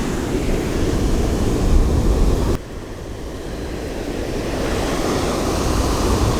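Ocean waves on a beach surge and wash in a steady roar with wind buffeting the microphone, the sound dropping abruptly partway through before building again.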